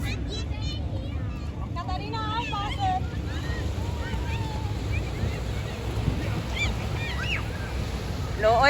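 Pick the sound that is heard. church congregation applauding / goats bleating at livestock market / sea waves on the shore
sea waves on the shore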